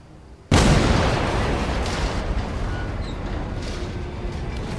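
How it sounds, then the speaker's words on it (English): A single loud explosion bursts in the World War II shooter Medal of Honor: Above and Beyond, a sudden close blast that rumbles on and slowly fades into a sustained roar. "That explosion got the attention of all the German patrols in the area."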